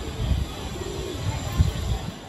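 Lokhande pigeons on a rooftop give a few low, soft coos over a steady wash of outdoor background noise.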